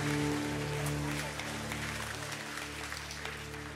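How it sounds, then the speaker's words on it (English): Applause from a church congregation after a musical performance, a soft continuous patter of clapping beneath a steady sustained electronic hum and tones, fading slightly toward the end. "Again, put our hands together. A round of applause."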